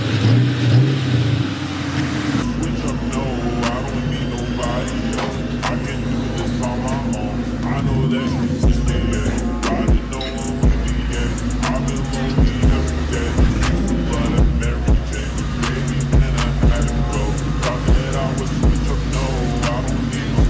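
A car engine idles and revs in a garage as the car is driven out, a continuous loud rumble with varying throttle, while people talk over it.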